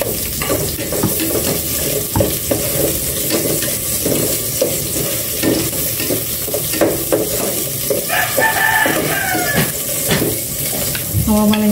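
Onions sizzling loudly in a frying pan, a dense continuous hiss with stirring scrapes and clatter throughout, close up, with brief background noises near the end.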